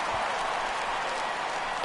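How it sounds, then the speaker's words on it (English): Baseball crowd in MLB The Show 16 video game reacting to a fly ball, a brief dense wash of broadband crowd noise with scattered applause, steady and loud throughout. "This crowd oohs and ahs every time this guy hits a fly ball."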